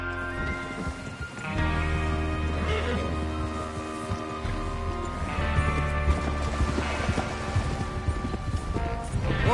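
Horses gallop in Red Dead Redemption 2 on PS4 as a gang sets out to rob a train: steady, fairly loud hoofbeats over a game music bed, without talk.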